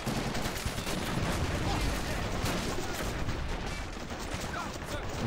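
In the Men of War: Assault Squad 2 video game, .50 caliber machine guns fire in a dense, continuous roar of overlapping bursts during a Peleliu beach assault, loud and unbroken, with a voice talking over it.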